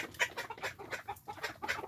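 Chickens cluck in a snowy barnyard with a rooster among them, several short clucks repeating in quick bursts at moderate distance.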